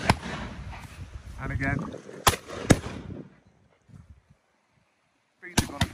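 Shotgun shots at a game shooting lesson on Exmoor: two sharp, loud reports close together mid-clip and another near the end, with an instructor talking before them and quiet outdoor air between.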